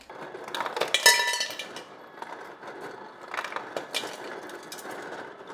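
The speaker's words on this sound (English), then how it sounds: "I can milk my fridge for ice cubes right here." Ice cubes drop from a refrigerator's dispenser in a dim home kitchen, a short run of clinks and rattles, a whirring mechanism, then a second burst of cubes knocking against a container, close and moderately loud with no talk.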